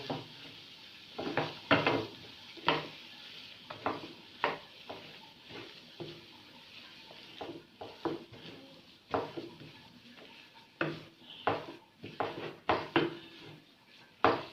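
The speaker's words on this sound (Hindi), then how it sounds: "और इन्हें अच्छी तरह से मिक्स कर लेते हैं तमाम चीज़ों को" Spoon scraping and clattering in a pan as potato masala for paratha filling is stirred with mustard seeds, irregular close strokes and knocks with a soft sizzle underneath, no voices.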